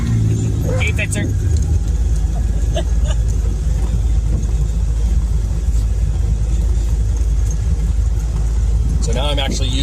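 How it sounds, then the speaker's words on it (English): A vehicle on a steep downhill in Alaska uses engine braking, giving a loud, constant low rumble throughout with faint clicks and a brief voice or animal sound near the end. "So now I'm actually using the engine as a little bit of a brake on this steeper side."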